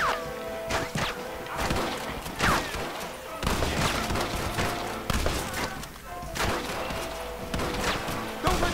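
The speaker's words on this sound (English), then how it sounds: "Open fire!" Gunfire in the Western video game Red Dead Redemption: dense volleys of rifle and pistol shots crack and boom in rapid irregular bursts, with thuds and impacts, loud and close, and game voices talking between the shots.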